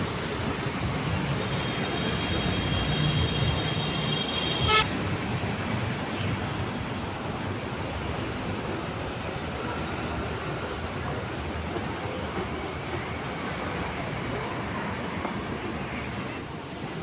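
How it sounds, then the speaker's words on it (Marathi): Steady crowd-and-machinery ambience at Anand Nagar metro station in Pune, with a continuous rumble of trains and station noise filling the whole stretch and faint voices mixed underneath. "आपण आनंदनगर मेट्रो स्टेशनवरती आलो. Anandnagar metro station."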